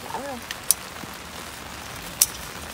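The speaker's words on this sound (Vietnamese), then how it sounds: "Các bạn thấy mưa không? Ướt dù ấy đó, mưa bắt đầu lớn nặng hạt rồi đó." Rain patters steadily on an umbrella in a garden as heavy drops begin to fall, a soft even hiss with a few sharper taps and a brief voice at the start.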